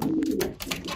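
Racing pigeon cooing close by, a soft, throaty, burbling coo repeated in quick pulses for about a second.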